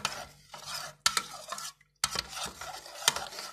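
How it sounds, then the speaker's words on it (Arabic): A spoon scrapes and clinks in short, close bursts as a chicken strips mixture is stirred together with dissolved stock in a bowl, with brief pauses between strokes. "هنقلب الخليط ده كويس خالص كده مع بعضه"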